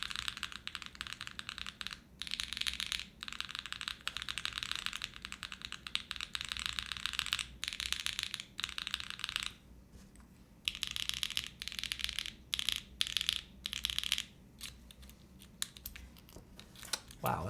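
Typing on an Arc60 mechanical keyboard built with alpha keycaps, giving a fairly deep sound profile; quick, steady runs of close keystrokes broken by brief pauses, faint overall, with no voices.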